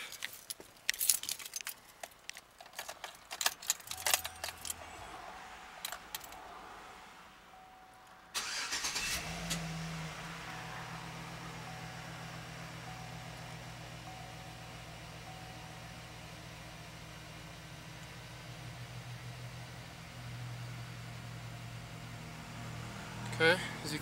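A car engine cranks and starts after a spark plug change, then settles into a steady idle hum. Earlier there are keys jangling and clattering handling noises, and a voice talks briefly over them.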